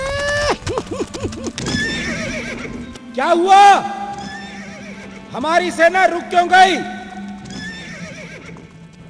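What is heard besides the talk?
horses neighing and hooves clip-clopping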